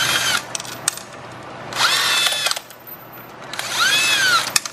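Power tool spinning bolts out of a transmission during a clutch job, three loud whirring runs that rise and fall in pitch, separated by short quieter gaps, close up.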